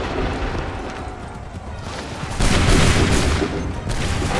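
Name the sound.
musket volley firing in video game Assassin's Creed III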